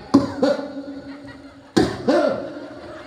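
A man coughs twice in two separate pairs of harsh, close bursts, with a quiet room hum between them.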